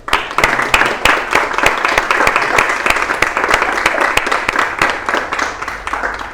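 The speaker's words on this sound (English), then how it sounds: "a round of applause to all of you for your for participating in this event" Audience applause at a Bhakti Yoga talk event, a steady wash of many hands clapping through the whole stretch, with some sharper individual claps standing out.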